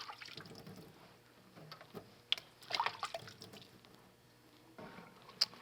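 Water rinsing medium-length curly hair during at-home curl care, a soft steady trickle and splash with a few brief drips and squishy sounds, fairly quiet and close.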